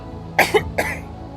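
A single short cough, two quick bursts followed by a smaller one, close to the microphone, then quiet.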